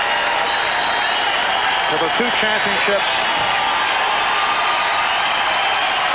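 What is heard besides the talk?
basketball crowd standing ovation, applause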